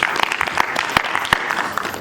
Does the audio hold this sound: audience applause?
yes